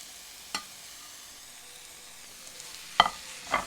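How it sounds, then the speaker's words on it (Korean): Mushrooms going into garlic sautéing over medium heat in a pan for oatmeal mushroom porridge: a faint, quiet sizzle broken by a few sharp clatters as the pieces drop in. "자, 이 정도 됐으면 여기다가 버섯을 넣어줍니다."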